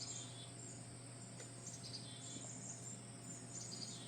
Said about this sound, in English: the birds are chirping away